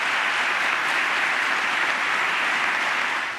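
Dense, sustained applause fills the US Congress chamber after a presidential address, a large crowd clapping evenly and loudly without pause from start to finish.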